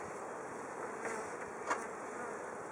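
Honey bees buzz at an opened hive during a colony inspection, a steady close swarm drone with a few louder individual bees passing near, no talking.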